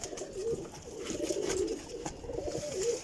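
Flying-breed pigeons in a pigeon keeper's stock make soft, low, repeated cooing, several rolling coos in a row, fairly close, with no talk.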